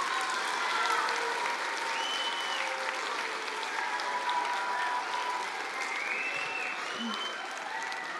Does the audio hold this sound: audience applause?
yes